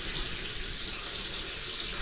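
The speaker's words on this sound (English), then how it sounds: "So let's go turn on the water and see how everything going" Water running steadily from a tap after being turned on during a home plumbing repair, a constant close hiss and splash with no pauses.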